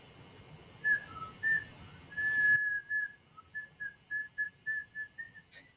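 A person whistles a series of short, thin notes, hesitant at first and then in a steadier run of quick, evenly spaced toots, fairly quiet and close.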